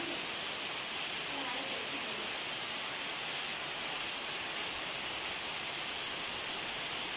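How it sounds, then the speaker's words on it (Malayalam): Heavy rain pours steadily, a dense, even hiss of falling water that stays constant and fairly soft, with no pauses or distinct drops standing out. "അപ്പം നല്ല മഴ പെയ്യാണ്"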